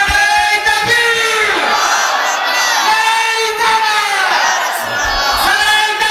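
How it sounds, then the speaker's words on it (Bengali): A large religious gathering loudly shouts takbir together, a continuous wall of many voices raised in unison with rising and falling swells of chanting that fill the whole clip. "জবান খুলে একটা জোরে তাকবীর হবে"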